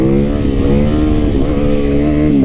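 A motorcycle engine revs hard and pulls into acceleration for a wheelie, a loud, steady, close roar with rising harmonic whine and no talking.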